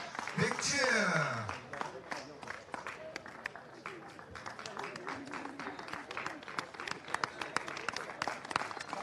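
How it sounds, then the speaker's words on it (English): Crowd cheering and clapping at an awards presentation for the EFRA 1/8th nitro buggy European championship, a loud swell of applause with a voice over a PA system calling out names through it. "Big cheer."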